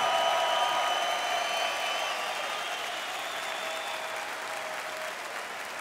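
Sustained audience applause in an arena after a hard-fought MMA bout at an OKTAGON event, a dense wash of clapping that holds steady and fades slowly, with a faint tone under it.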